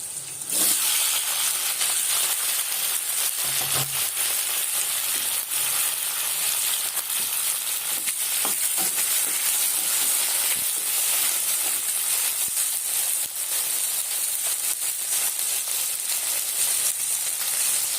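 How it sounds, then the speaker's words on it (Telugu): Tomato pieces sizzle in a hot pan for a tomato chutney, a dense, loud, continuous frying hiss with a few faint stirring knocks and no voices. "మంచిగా వేగిన తర్వాత టమాటా ముక్కలు యాడ్ చేయాలి"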